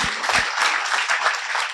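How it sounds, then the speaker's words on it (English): A short burst of steady, dense audience clapping at a tech demo night, a round of applause holding even and fairly loud throughout. "I'll give them a round of applause."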